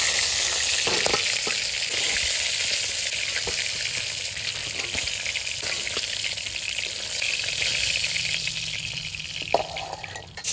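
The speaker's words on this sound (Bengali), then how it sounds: "এরকম করে আমি সব মাছ ভেজে নেব।" Pieces of tuna fish fry in hot oil in a home kitchen pan with a dense, steady sizzle and crackle throughout, a few soft clinks of stirring and handling, loud and close, with no talking.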